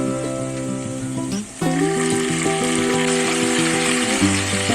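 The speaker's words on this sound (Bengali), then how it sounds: "গ্যাসের ফ্লেমটাকে লো করে এখানে দিয়ে দেবো ছোট করে রাখা টমেটো কুচি।" Chopped tomato dropped into onions frying golden brown in a pan over a low gas flame, giving steady loud sizzling with a short dip and fresh burst as the pieces land, under a background music bed.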